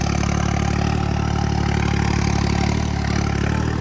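A tractor engine runs steadily at about 1600-1700 rpm while pulling a rotavator in a field, a loud, even, continuous drone with a throbbing low-end pulse and no talk.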